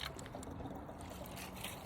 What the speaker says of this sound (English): Yeah, I can spin it. And look, you can hear the water.